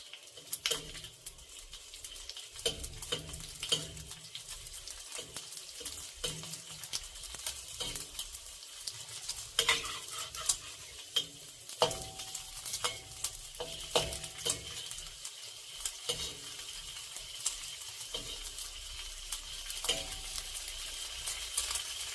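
Steady, crackly sizzling of cured pork frying slowly in a wok over low heat, rendering its fat, with soft scattered pops and occasional light scraping of a utensil.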